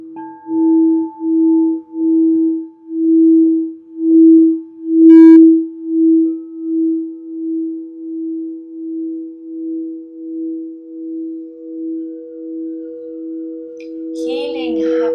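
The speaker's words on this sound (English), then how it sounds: "start to tune in to the sounds of the crystal bowls" Crystal singing bowls sound a steady, pure sustained tone that swells and pulses gently in a slow rhythmic throb, loud and close, with a faint brief voice-like murmur near the end.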